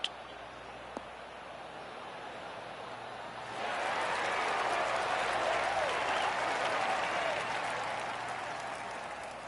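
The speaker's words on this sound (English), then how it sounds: "I can hear the golf claps around the course." Golf claps from spectators around the course at The Players Championship start after a short quiet spell, a spread-out patter of applause at some distance, holding steady before easing slightly.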